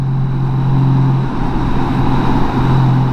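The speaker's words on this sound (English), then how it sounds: "Out here riding with Tolo on his 2012 black and gray Honda Gold Wing" A black and gray 2012 Honda Gold Wing motorcycle cruising on the road, its engine giving a steady, loud low hum with constant wind and road rumble, no voices.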